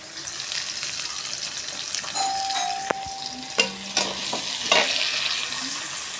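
Cumin and mustard seeds sizzling in hot oil in a pan while tempering for poha, a steady crackling fry with a few stirring clinks and a brief ringing tone.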